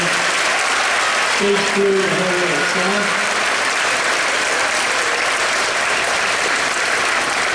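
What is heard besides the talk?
applause for band colleagues at a concert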